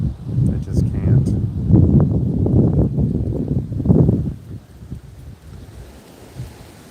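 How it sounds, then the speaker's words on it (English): Wind gusts outdoors, buffeting the microphone with loud low rumbling that rises, swells and then drops away to a quieter hiss. "It's a bit windy. That's a gust."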